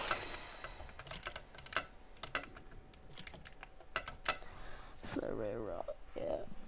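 Keyboard keys clatter in quick bursts and scattered taps while a player games Fortnite on PS4 with a mouse and keyboard, with a voice talking over part of it.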